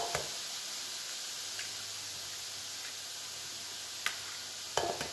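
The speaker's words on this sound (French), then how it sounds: "je laisse mes fruits caraméliser et faire revenir" Fruits caramelize in a pan for pain perdu, giving off a soft, steady sizzle with a few faint clicks and taps over it.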